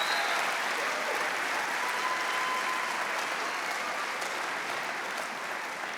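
A concert audience applauds a school choir at an all-county chorus concert, steady sustained clapping from a large crowd, even and moderately loud throughout with no talk.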